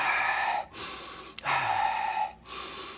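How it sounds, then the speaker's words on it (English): A person doing breathing exercises while crawling with a neck injury takes three heavy, drawn-out breaths, close and loud, separated by short silences and broken once by a brief sharp click. "I do my breathing exercises."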